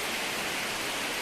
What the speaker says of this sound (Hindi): वो बारिश पूरी तरह से देखने को मिल रही है।